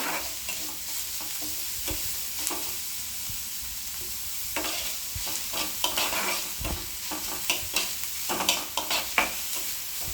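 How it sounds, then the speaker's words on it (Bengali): Continuous sizzling from onions frying in a pan over a medium flame, with occasional stirring scrapes and clicks, no voices. "পেঁয়াজ ভাজা হয়ে গেছে।"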